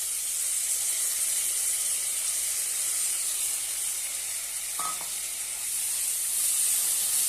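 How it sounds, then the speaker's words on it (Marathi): Chopped fenugreek leaves sautéing in a pan give a steady, bright hiss of frying that stays constant throughout, with one brief faint knock in the middle and no talking. "छानपैकी परतून घेऊया"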